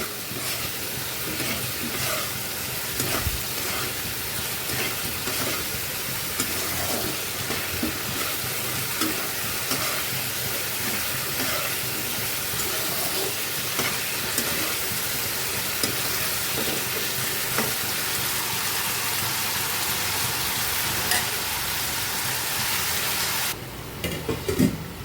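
Potatoes and ground and chopped tomatoes frying in a pan for jackfruit kofta curry, a dense continuous sizzle with frequent stirring scrapes throughout, close and steady, no voices.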